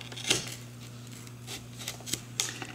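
A knife slices through a white Bhut Jolokia pepper on a hard surface, giving a few crisp, close cuts and taps spaced irregularly over a couple of seconds, with no talk.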